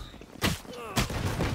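Gunfire in the video game Valorant: two sharp shots about half a second apart, loud and close, over a busy game background with some faint voice chatter.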